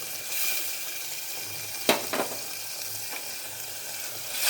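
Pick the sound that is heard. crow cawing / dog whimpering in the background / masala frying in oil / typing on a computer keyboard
masala frying in oil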